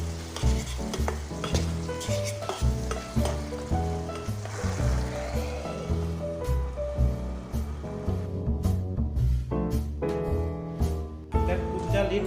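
Fish curry with fermented bamboo shoot and fried tomatoes being stirred in a pan, with rhythmic spoon scrapes over a steady frying sizzle, close and continuous, with a voice speaking briefly at times.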